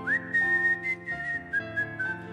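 A single person softly whistles the Christmas carol Tu scendi dalle stelle, a clear melodic line of sustained and shifting notes heard alone, with faint tonal accompaniment beneath.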